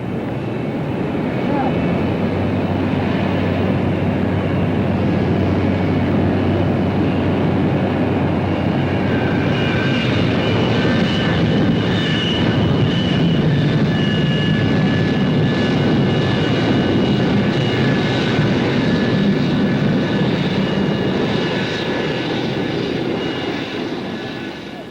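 A steady aircraft engine roar at Dhaka Airport, loud and unbroken throughout, with a whining tone above a low rumble and no clear voices.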